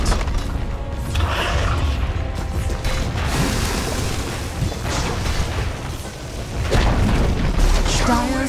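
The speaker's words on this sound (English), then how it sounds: "Dire's middle tower has fallen." Heavy booming crashes from a tower collapsing in Dota 2, a continuous rumbling, crunching mass of impacts at a steady, fairly loud level, with a few sharper hits toward the end.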